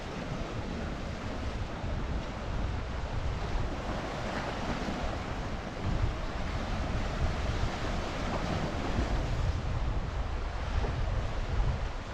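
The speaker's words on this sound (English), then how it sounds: "she can just sit and watch the waves come in." Sea waves roll in continuously on the shore at Sant Elm, Mallorca, a loud steady wash of surf mixed with wind buffeting the microphone, with no voices.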